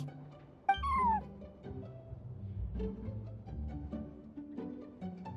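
A single clear, rising-then-falling cat meow stands out near the start, followed by soft background sounds and quiet ambience.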